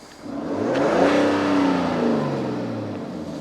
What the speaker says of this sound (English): Okay, whenever you're ready, let's rev it.